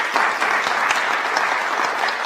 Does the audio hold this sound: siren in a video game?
no